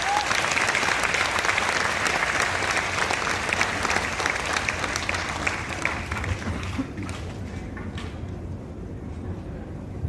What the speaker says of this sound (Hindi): तालियां आप बजा सकते हैं वैसे।